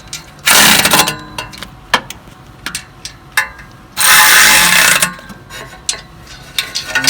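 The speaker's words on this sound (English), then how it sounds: "Last step: just tighten all the bolts." A ratchet tightening bolts during an off-road headers install on a 2015–2017 GT, heard as two long, loud bursts of rapid clicking, separated and followed by scattered knocks and clicks of tools on metal, with no talking.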